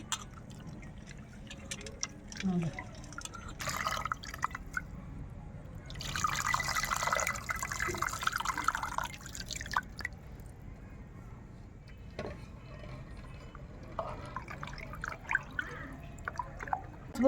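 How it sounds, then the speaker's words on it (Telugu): Soaked tamarind water poured into a cooking pot for a raw tamarind stew, a soft splashing pour rising in the middle, quiet and close over low background noise. "ఇప్పుడు చింతపండు ఇందులో తీసుకొని పోసేసుకుంటున్నానండి"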